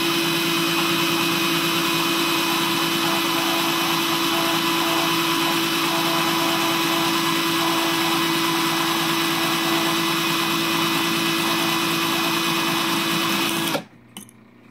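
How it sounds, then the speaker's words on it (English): A power drill spinning wire whines continuously for several seconds, close and steady, then stops abruptly. "and run the drill."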